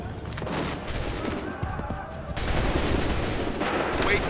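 Musket volleys crack out in the video game Assassin's Creed III, with dense overlapping gunfire bursting loudly amid battle noise, in a couple of sustained waves.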